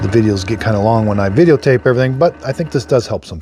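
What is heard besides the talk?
No distinct noise like a dog, phone or traffic.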